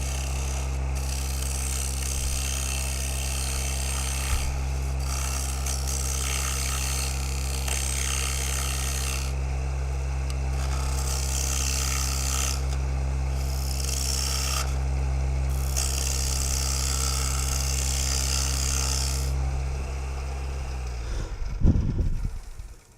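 Lathe motor hum with steady whirring as a wooden workpiece turns and the tool cuts into the tenon during a live woodturning demonstration, continuous and close, ending in a brief scraping burst.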